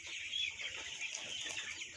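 Chickens cluck on a poultry farm, a 32-day-old flock that had shown signs of Ranikhet disease, forming a steady, close chorus of overlapping clucks with a hissy background and no talk.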